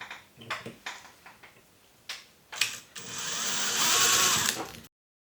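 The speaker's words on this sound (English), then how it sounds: "so we're having to drill it out" A drill boring out a stuck pin on a Deckel SO single-lip grinder: several short clicks and bursts of handling, then a sustained whirring drill run that builds and cuts off abruptly.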